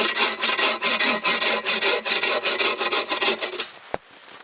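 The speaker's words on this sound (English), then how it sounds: "I'm just noticing I'm cutting them a touch too long now, so I'm gonna trim it up" Hand saw rasping through a log being trimmed to length for a snow-blocking half wall of a fort in the woods, steady rapid back-and-forth strokes close by, ending with a sharp knock then quiet.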